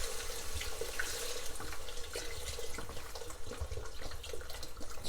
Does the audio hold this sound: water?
yes